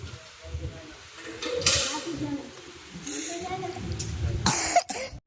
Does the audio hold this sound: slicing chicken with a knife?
no